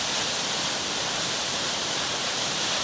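A Southern Queensland waterfall running low after little rain, a continuous broad rushing roar, steady and fairly loud throughout.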